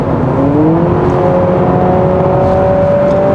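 Steady engine drone with a slowly rising pitch as revs climb in sport mode, heard continuously and fairly loud from inside a moving 2024 Honda CR-V Hybrid 4WD Touring.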